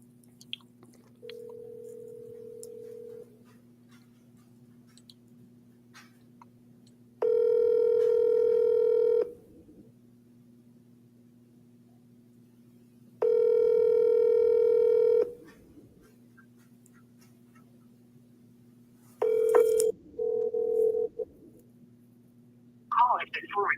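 A telephone dials out with steady tone bursts and a few short dialing beeps over a constant low hum, while people talk faintly in a room during dinner.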